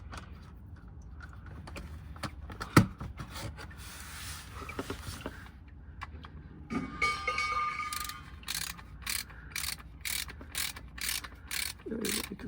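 A wrench works at the transmission drain plug of a Lexus ES350 at 133k miles, giving a run of sharp metallic ratchet clicks in quick repeated bursts, close by and fairly quiet, with a heavier knock partway through.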